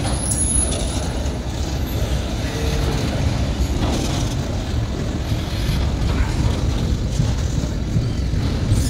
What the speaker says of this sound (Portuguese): E lá vem o trem.